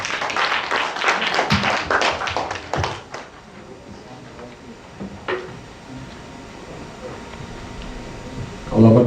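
A church congregation claps and applauds together for a few seconds, the clapping fading into quiet room hiss with occasional taps and a voice.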